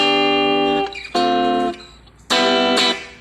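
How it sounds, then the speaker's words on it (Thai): Clean electric guitar chords through a NUX Mighty Lite BT Mini amp with delay and reverb off, four strums with long sustains and short gaps, bright and dry with no distortion. "นี่เสียงคลีนเพียวๆ เลยนะฮะ"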